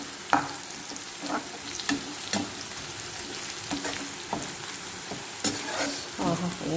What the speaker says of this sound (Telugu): ఇప్పుడు ఇట్లా జీడిపప్పులు ఉన్నాయి కదా అవి వేసుకొని వేపేసుకుందాం ఫ్రై చేద్దాం